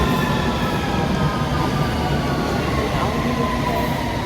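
Continuous roar of a London train in motion, loud and steady rumble with rattling wheels and faint squeal throughout.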